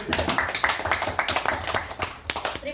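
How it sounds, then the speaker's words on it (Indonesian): Applause from an audience of teachers at a presentation, a few seconds of lively, irregular clapping close by, fairly loud and fading slightly toward the end. "tepuk tangan buat kita"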